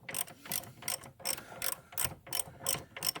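A ratchet clicking as a bolt is threaded into the rear suspension of a 2006–2010 Ford E-series van, with steady, close, repeated ratcheting strokes in an even rhythm and no talking.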